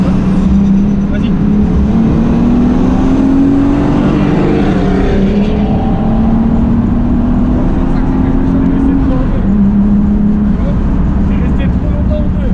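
A loud turbocharged BMW E36 engine roars and climbs in pitch as it accelerates, rising and falling through gear changes, heard up close throughout.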